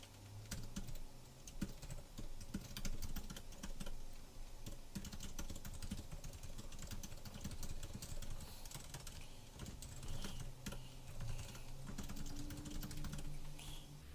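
Steady, close typing on a computer keyboard while login credentials are entered, with dense, rapid key clicks running continuously throughout and no voices.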